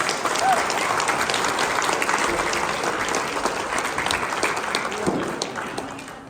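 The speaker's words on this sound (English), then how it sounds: "Please give them all a round of applause." Steady applause from an audience at a realtors' association installation ceremony, full and sustained for several seconds, then tapering slightly at the end.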